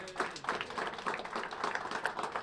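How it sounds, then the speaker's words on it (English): An audience at a high school football team luncheon applauds student athletes: scattered, moderately quiet clapping from a roomful of people, steady and unbroken for a couple of seconds. "Please give your student athletes a round of applause."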